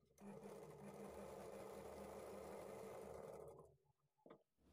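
Sewing machine stitching a lining blouse sleeve piece at a quarter-inch margin, a steady close whirring run of rapid stitches for about three seconds, then stopping, followed by faint handling sounds.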